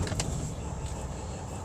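A 2018 Freightliner Cascadia truck idles with a steady low rumble that runs the whole time, after a short burst of clicks and rattles at the start.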